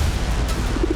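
A pigeon coos at over 12,000 feet in a remote, desolate Himalayan area, giving a few soft, low, rounded notes near the end of a brief second of open-air background.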